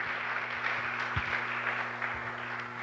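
A church congregation applauds during a Portuguese-language sermon, a steady diffuse wash of clapping with low hum underneath, moderately loud and continuous for a few seconds.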